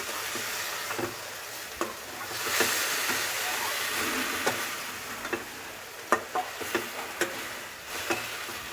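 Fried potatoes and cauliflower stirred in a sizzling pan for a Bengali-style dalna, with a constant close hiss of frying and scattered scraping knocks of the spoon against the pan, getting more frequent toward the end.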